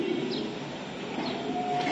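Domestic pigeons coo softly amid a pigeon breeder's loft or market, the low murmuring calls steady and close over background noise, with no speech over them.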